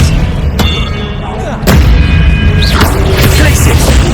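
Expelliarmus disarming spell cast in the video game Hogwarts Legacy during combat: loud, sharp booming impacts and crackling blasts over a dense, continuous battle din.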